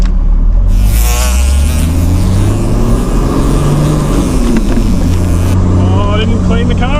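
A car engine roars steadily in second gear while climbing the Big Red sand dune, a loud continuous rumble with rising revs and a voice speaking briefly over it.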